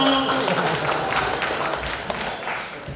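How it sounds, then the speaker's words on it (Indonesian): Audience applauding for Romo Bono at a church welcome gathering, a steady, dense wash of clapping that fills the room and holds for the whole moment with light murmur mixed in. "tepuk tangan untuk Romo Bono"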